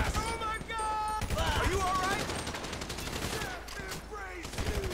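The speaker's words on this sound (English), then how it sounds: "So I guess we shooting our way out of here." Gunfire in a GTA V story-mode heist shootout: rapid bursts of shots run throughout, mixed under steady game dialogue and a voice talking over it.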